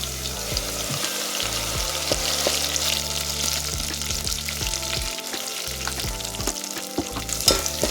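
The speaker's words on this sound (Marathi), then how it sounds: "आता याला तेलामध्ये व्यवस्थित परतून घेऊ आपण." Ground masala paste sautéing in oil over medium flame for mutton rassa curry: a continuous close sizzle with frequent spoon scrapes and taps against the pan as it is stirred, a few brief quieter moments between.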